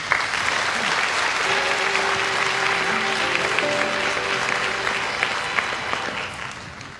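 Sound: audience applause welcoming a speaker

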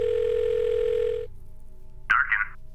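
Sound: phone call dialing tone in The Blackwell Deception video game

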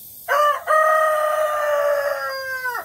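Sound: white rooster crowing

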